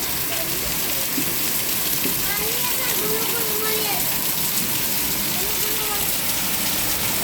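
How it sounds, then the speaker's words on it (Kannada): Heavy rain pours down in Ranebennur, Haveri, in a dense, constant hiss, loud and unbroken throughout, with faint voices murmuring somewhere underneath. "ಸಡನ್ನಾಗಿ ಮಳೆ ಬಂದೈತಿ."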